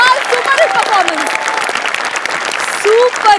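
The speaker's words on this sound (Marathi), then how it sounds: "पण एकदा जोरदार टाळ्या यांच्यासाठी." Audience applause at a Marathi comedy show, a loud and dense burst of clapping that fills the whole stretch with a voice speaking over it.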